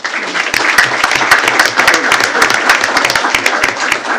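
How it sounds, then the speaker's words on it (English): Round of applause at a school board of trustees meeting as Miss Birdie Taylor is called up, many hands clapping loudly and continuously with sharp individual claps standing out, a voice briefly present. "Big round of applause for Miss Birdie Taylor."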